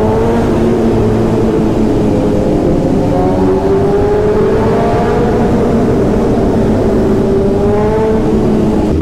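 Loud motorcycles rev inside a tunnel, a continuous, close engine roar whose pitch sweeps up and down as the throttle rises and falls, with no talking.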